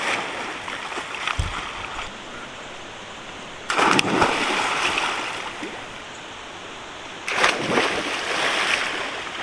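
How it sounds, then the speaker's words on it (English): People splashing while swimming in a lake at a campsite on a whitewater canoe trip, steady watery wash broken by a couple of loud splashy bursts, close and fairly loud with no talk. "And we're gonna go for a quick swim."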